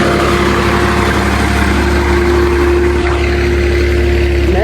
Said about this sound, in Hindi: ये ट्रैक्टर चला रहे हैं आराम आराम से।